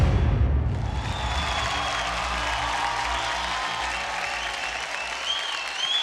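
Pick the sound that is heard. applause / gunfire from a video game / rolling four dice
applause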